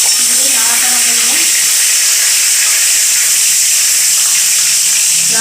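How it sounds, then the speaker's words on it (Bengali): Nigella seeds, tomato and dried chillies sizzle in hot oil for a winter vegetable curry, a steady loud hiss running unbroken from start to finish. "এখন আমি কালো জিরা ফোড়ন দিলাম, তার সঙ্গে টমেটো শুকনো লঙ্কা দিয়ে নাড়াচাড়া করব।"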